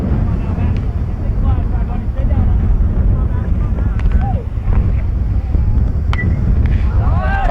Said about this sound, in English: Wind is blowing. It's really gusting at the moment.